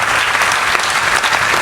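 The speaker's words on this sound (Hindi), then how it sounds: "जरा जोरदार तालियां सत्यनारायण सत्तन के लिए बजा दें" Loud, dense applause from the crowd at a Hindi kavi sammelan poetry conference held in a society hall, a continuous roar of many hands clapping together with no voices over it.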